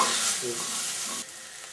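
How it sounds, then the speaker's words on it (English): Corn chowder mixture with potato flour stirred in a pot, a short close burst of sizzling and scraping that drops off abruptly partway through. "And stir that all around. Get that well mixed."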